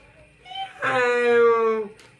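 A voice imitates a cat's meow, a drawn-out whiny mew preceded by a short softer sound.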